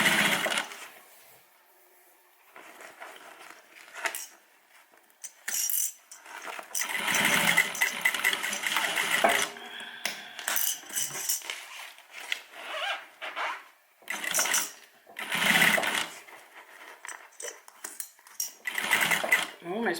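A sewing machine stitches a seam on a homemade airliner cabin bag in bursts of rapid mechanical chatter, finishing with a back stitch, separated by pauses and fabric handling. A person talks over it.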